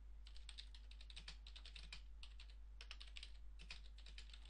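Quiet, steady typing on a computer keyboard, rapid clusters of light key clicks with brief pauses between bursts, over a constant low electrical hum, with no talking.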